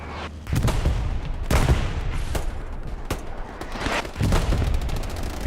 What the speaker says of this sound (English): Bombing run called into logging camp.